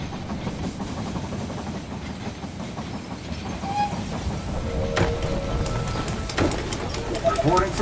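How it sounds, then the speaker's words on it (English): Train arrival in the strategy game They Are Billions: steady rumbling rail noise with clickety-clack and hissing, growing a little louder near the end, with speech over it. "The train has arrived at the station."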